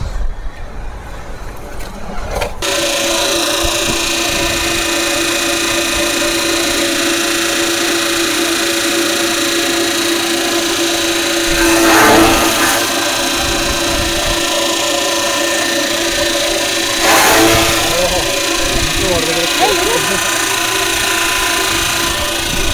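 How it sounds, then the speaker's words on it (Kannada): A manual-feeding chaff cutter without gears runs steadily with a loud, continuous mechanical whir and hum, starting up after a brief moment, with a couple of faint swells in the drone. "ಈ ಮಿಷಿನ್ ನೋಡ್ರಿ ವಿತೌಟ್ ಗೇರ್ ಮಾಡಲ್ ಮ್ಯಾನ್ಯುವಲ್ ಫೀಡಿಂಗ್ ಮಿಷಿನ್"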